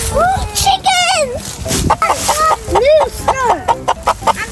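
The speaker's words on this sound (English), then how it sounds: "Oh, see the chicken!" Farm chickens cluck and squawk in quick, bright bursts near the listener, with a child and an adult talking excitedly over the birds.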